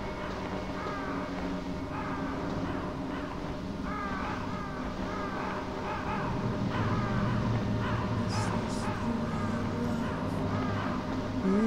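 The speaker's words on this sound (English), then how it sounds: "Let's listen to the crows." Crows caw repeatedly in Metal Gear Solid, their harsh calls rising over a steady low ambient drone that swells slightly partway through.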